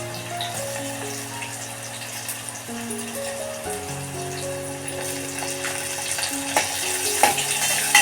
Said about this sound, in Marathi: कांदा आणि टॅमॅटो चांगला मऊ होईपर्यंत ना मी परतून घेते